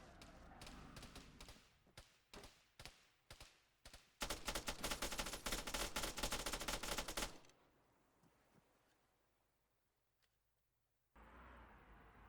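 Gunfire rings out from a sports hatchback in a driving video game, first as separate sharp shots, then a dense rapid volley, followed by quiet rumbling and a final burst of noise.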